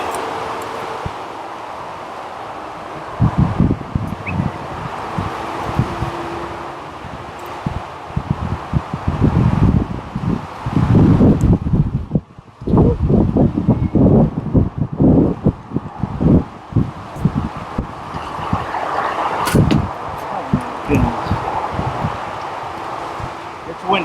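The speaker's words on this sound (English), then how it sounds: "It's windy." Gusty outdoor wind roars and buffets the microphone, swelling loud through the middle with rustling and handling noise, while a person speaks briefly.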